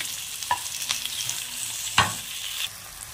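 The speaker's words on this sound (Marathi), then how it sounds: "जरा सोनेरी ही टमाटर टाकत आहे। त्याच्यात हे कढीपत्ता जरा परतवून घेत आहे।" Tomatoes and curry leaves being sautéed in a pan for a prawn curry, giving a steady sizzle with a few scraping stirs, close and clear with no speech.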